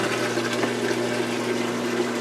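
Washing machine tub draining after a repair to a machine that would not spin or drain, a steady close pump hum with rushing water running continuously and no voices.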